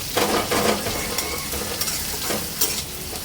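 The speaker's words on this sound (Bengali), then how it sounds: "পেঁয়াজটাও আমি ভালো করে ভেজে নেব।" Onions fry in a pan with a steady close sizzle, punctuated by repeated stirring scrapes and brief bursts of crackling, no talking.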